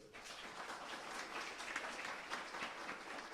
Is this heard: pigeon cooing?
no